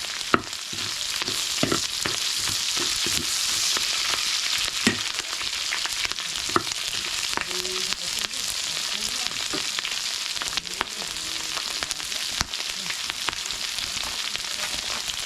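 Garlic and ginger fry in a hot pan for sutcha, a steady broadband sizzle with scraping stir strokes and clinks of a utensil throughout, loud and close with no talking.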